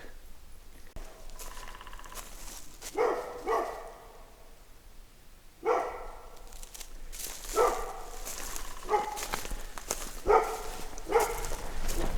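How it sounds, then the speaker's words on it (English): Dog barking near a house along a wooded trail, a series of sharp barks in irregular bursts at moderate distance, separated by quieter stretches of outdoor background. "So the dog started barking"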